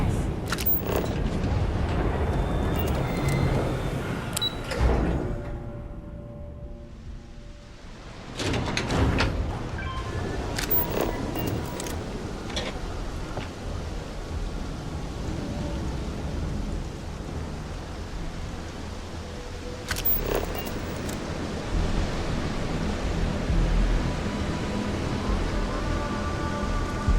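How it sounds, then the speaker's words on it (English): Steady rain falls in the video game Starfield, a constant broadband hiss with low rumbles that may be thunder and a brief quiet gap midway, the downpour continuing throughout. "Nice if it would stop raining."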